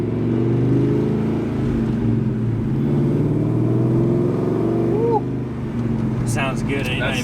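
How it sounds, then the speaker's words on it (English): A Ford Mustang with a 2V V8 and aftermarket exhaust burbles steadily and loudly up close at light, roughly quarter throttle, with a deep continuous rumble throughout and a brief rise near the end. "So it just gives you that good V8 kind of sound."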